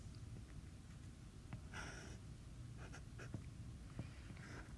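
Chalk or marker writing vector numbers on a board during a maths lecture, a few scratchy strokes and taps at close range over steady low room hum, with no talking.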